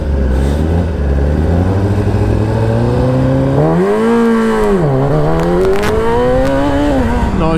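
A racing motorcycle engine warms up, holding a loud, steady idle before rising and dipping through several revs, then climbing again, close and alone with no talk.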